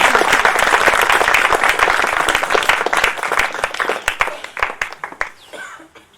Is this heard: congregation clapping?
yes